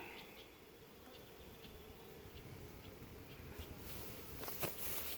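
Dense, steady buzzing of many honey bees, mostly nurse bees on a hive frame, close by, a continuous insect drone with faint handling noises near the end.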